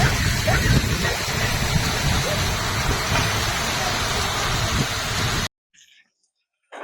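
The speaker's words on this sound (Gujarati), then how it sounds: "જોરદાર વરસાદ" Dense, loud rain roars steadily for several seconds, then cuts off abruptly into near silence.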